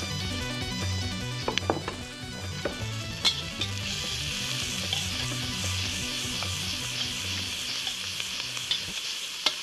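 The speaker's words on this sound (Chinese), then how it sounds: "先把洋葱炒一下。" Onions stir-fry in a hot wok for a beef dish, a dense, even sizzle running throughout with scattered clinks and scrapes of the spatula against the metal, close and steady with no voices.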